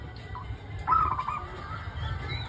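A chicken clucks once at moderate distance, a brief bright burst rising over a steady low outdoor rumble.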